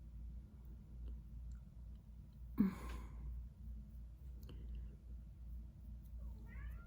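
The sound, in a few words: cat meowing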